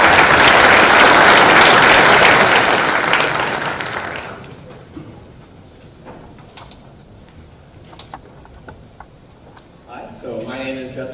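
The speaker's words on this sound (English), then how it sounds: "Please, a round of applause for Justin" Applause from a conference audience at FOSDEM 2017, a loud dense wash of clapping for about four seconds that fades out, leaving quiet room noise with a few faint knocks and some brief voices near the end.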